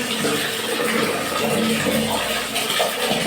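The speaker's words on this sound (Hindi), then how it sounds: "मैं तो अम्मी डाल दे रही है पौधों में पानी।" Water is poured onto potted plants on a home rooftop, a continuous splashing, trickling wash that runs throughout at close range.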